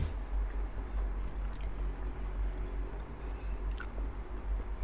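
Close, wet chewing and squishing of large Monthong durian pods with soft, crisp-edged flesh, steady mouth sounds over a low constant rumble, with no talking.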